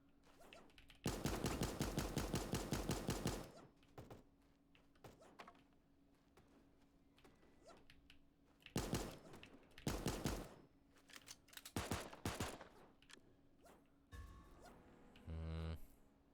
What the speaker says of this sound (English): Oh, he has a Tommy gun.